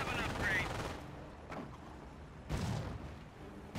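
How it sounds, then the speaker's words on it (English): Rifle grenades explode during a video game, several muffled booming bursts spaced a second or so apart against a busy battle backdrop, one at the start and a heavier one later. "that's rifle grenades"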